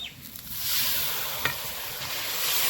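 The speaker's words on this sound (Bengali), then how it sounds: "এবার দিয়ে দিব পেঁয়াজ বাটা জিরে বাটা" Onion and cumin paste goes into a hot pan for a Bengali snakehead fish curry and hits with a sudden loud sizzle that settles into steady frying. One brief clink can be heard and nobody speaks.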